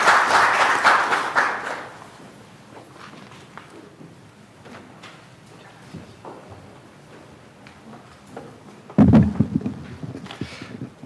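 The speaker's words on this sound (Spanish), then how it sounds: "pedimos un fuerte aplauso para los expositores" An audience at a labour-law conference applauds the speakers. The broad clapping is loudest at the start and fades out within about two seconds. A quiet hall with scattered small noises follows, then a brief rustling burst near the end.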